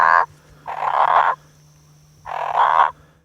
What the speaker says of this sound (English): Hey Dave, I think I've found a bell frog, and it's on the Tablelands